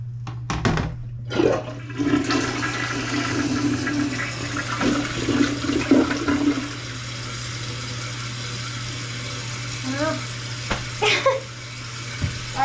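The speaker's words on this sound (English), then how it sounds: "I can't get that to flush much better." A plugged toilet is flushed, giving a loud gurgling rush of water with a steady background hum, then the flow fades to a quieter trickle and refill with a few faint clunks.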